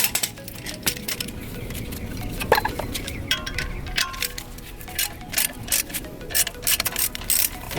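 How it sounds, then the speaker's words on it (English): A ratchet tightens a ball joint press on an upper ball joint, making bursts of quick metallic clicking strokes with short gaps and the odd clank of tools, close and fairly loud, with no talking. "all we gotta do is tighten this up with my ratchet"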